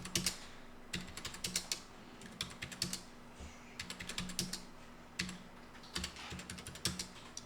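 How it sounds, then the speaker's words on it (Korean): Someone types on a computer keyboard in short quick bursts of close, crisp key clicks with brief pauses between them while entering data into a spreadsheet. "범위를 잡고 타이핑을 하면 여기 끝까지 가서 엔터 치면 이 밑 옆으로 이렇게"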